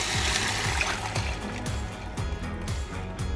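Liquid pours steadily into a pan: a mix of cream, chicken broth and taco seasoning tipped from a bowl, giving a continuous close splashing trickle with a faint rhythmic low thumping underneath.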